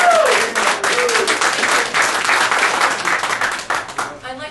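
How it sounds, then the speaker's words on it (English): A luncheon audience applauds a presenter, dense steady clapping filling the room for several seconds before tapering off at the end, with a voice briefly audible at the start. "give her a big round of applause"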